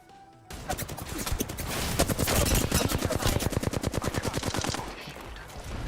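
Automatic gunfire in Apex Legends, a long, loud, rapid burst of evenly spaced shots lasting about four seconds and ending abruptly, followed by quieter action sounds.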